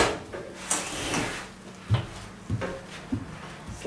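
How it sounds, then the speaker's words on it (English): Sliding door on a KamadoSpace outdoor kitchen island being fitted and moved, with several close knocks and sliding thuds at uneven intervals. "Sliding door."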